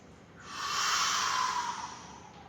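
One long audible inhale through the nose during a tai chi exercise, close and airy, swelling for about a second and a half before easing off.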